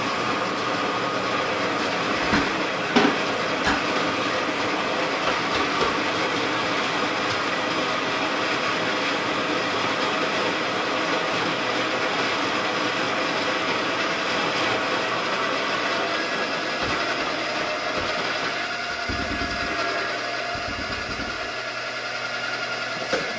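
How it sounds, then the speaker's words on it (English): A conical burr coffee grinder grinds coffee beans for Chemex brewing, giving off a steady, loud, rough mechanical whir that runs unbroken for the whole stretch with no talking over it. "So I'm going to grind this, and it's going to make a lot of noise."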